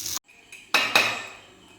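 Fried clams transferred onto a plate: a few clinks and knocks of a utensil against the dish, sharp near taps with short ringing decays and small gaps between them, no voices.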